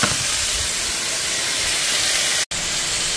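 Carrot and potato chunks dropped into a hot pan of browned onion, ginger and garlic set off a loud, steady hissing sizzle that runs alone for several seconds, broken by one brief cutout, with no talk.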